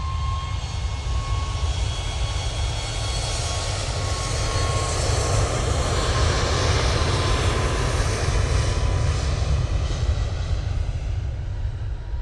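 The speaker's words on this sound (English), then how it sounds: "Ryanair 737 Max is off to Cork." A Ryanair Boeing 737 Max takes off from Manchester Airport for Cork, its powerful engine roar steady and loud with a faint high whine, sustained without pause and no talking.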